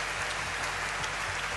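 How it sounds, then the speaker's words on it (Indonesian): A congregation applauding at a worship concert, a brief, dense and continuous patter of clapping filling the hall. "Sekali lagi berikan tepuk tangan buat Tuhan"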